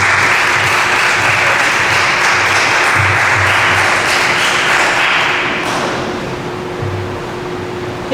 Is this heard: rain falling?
no